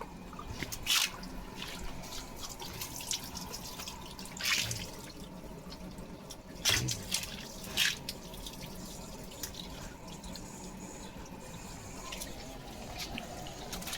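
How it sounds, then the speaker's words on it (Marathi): Water from a burst pipe splashes and drips steadily outdoors, with a few louder gushing spurts standing out against the constant wet patter. "पाईप फुटला पाईप फुटला"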